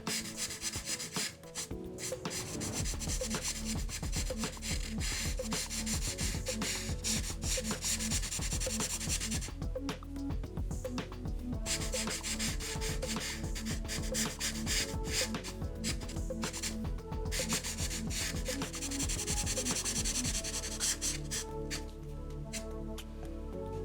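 Chisel tip marker inking in a drawing scratches and rubs against paper in continuous close strokes with a few brief pauses, steady and alone, with no talking.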